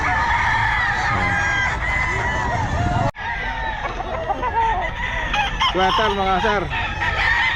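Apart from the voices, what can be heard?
many chickens and roosters at Bocaue pet market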